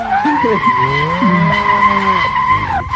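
A Mazda RX-7 FD3S with boosted turbo power drifts in the Assetto Corsa racing game, tires squealing in a loud, sustained, wavering screech that shifts pitch as the car slides, with no talking.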